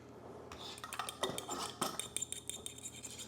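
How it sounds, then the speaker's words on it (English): Eggs being beaten in a bowl with a utensil for challah bread dough, a quick irregular clinking and scraping of metal against the bowl, close and moderately loud, no talking. "I'll beat the eggs."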